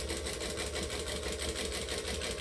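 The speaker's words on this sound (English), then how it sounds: "I am going to go up to a 4 stitch length and I'm going to stitch either side of the" A sewing machine stitches a tote bag seam at a long stitch length, giving a loud, steady, continuous mechanical whir with a fast regular rhythm throughout.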